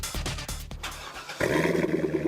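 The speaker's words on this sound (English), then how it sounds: "That's the sound of America's only sports car." A Corvette sports car engine fires and settles into a steady, throaty idle after a few sharp bursts, loud and close.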